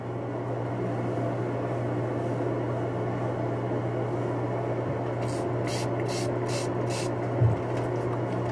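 Braid sheen sprayed section by section onto synthetic twisted braids: a quick run of four or five short, faint hissing spritzes near the end, over a low steady room hum.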